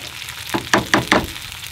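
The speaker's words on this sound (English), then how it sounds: "Can you hear that sizzle?" Shrimp and steak fried rice cooking in a pan on a camp stove beside a Tacoma truck, a close hiss of sizzling with three quick bursts of stirring or tossing.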